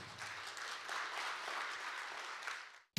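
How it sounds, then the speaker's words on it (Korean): An audience claps warmly to welcome a Seoul National University earth sciences professor to a science lecture. The applause is continuous and fairly quiet, then cuts off abruptly at the end. "교수님을 큰 박수로 맞이해 주시기 바랍니다."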